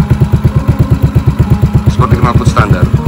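A Yamaha Mio scooter with an aftermarket exhaust idles loud and close, its steady rapid low pulsing continuing throughout while brief faint higher noises pass near the end.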